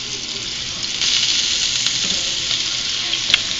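Turkey burgers frying in olive oil in a pan give off a steady, close, bright sizzle that grows a little louder after the first second, with one faint tap partway through and no talk.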